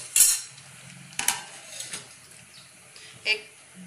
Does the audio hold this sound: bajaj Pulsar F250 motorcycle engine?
no